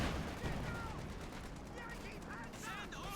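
A .50 cal machine gun rattles in a Company of Heroes 2 battle, rapid bursts mixed with other gunfire at fairly low level, with a voice talking over the fighting.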